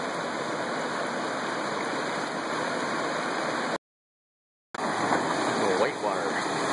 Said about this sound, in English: it's really white water.